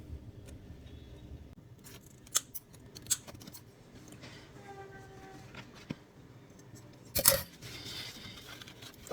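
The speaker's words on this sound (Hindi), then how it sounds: "इस डोरी को एक साइड से काट के" Scissors snip through string in a kitchen crafting setup, a few sharp isolated clicks and cuts close by, with one louder burst of snipping near the end; no talking.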